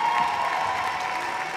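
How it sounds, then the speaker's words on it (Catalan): Brief burst of applause from an audience at a university graduation ceremony honouring new translation and interpretation graduates, steady and moderately loud throughout. "Un fort aplaudiment"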